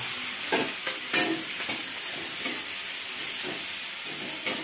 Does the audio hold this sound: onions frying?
yes